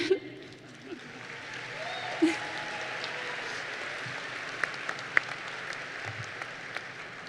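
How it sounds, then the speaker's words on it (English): A commencement audience applauds the class of 2025, a steady, fairly faint wash of clapping spread across a large hall, with a few sharper claps standing out. "You can clap on that one."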